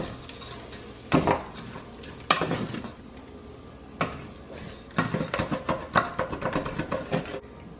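A spoon stirs pork ragu in a pot, scraping browned meat bits from the bottom with repeated metallic scrapes and knocks, near and steady over a faint sizzle.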